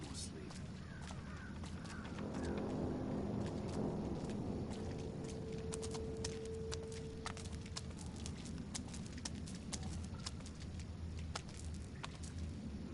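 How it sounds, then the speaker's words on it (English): Horse hooves clip-clop at a steady walking rhythm amid a busy soundscape in the PS4 game Thief, with a brief tonal hum in the middle. "The sound of horse hooves."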